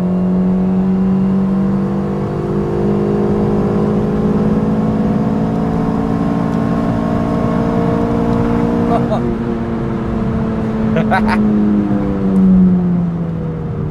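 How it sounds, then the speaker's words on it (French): A light Daihatsu Charade engine revs hard and climbs steadily to the rev limiter, a loud continuous whine with rising harmonics and a few stuttering cuts near the top, while people talk over it inside the car. "Oh, il a été chercher le rupteur."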